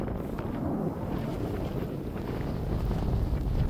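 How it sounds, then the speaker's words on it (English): Wind blowing at a lake in Kansas City, Missouri, buffeting the microphone with a steady low rumble that swells slightly toward the end, with no talking. "it's a little windy, so if you guys hear the wind, forgive me"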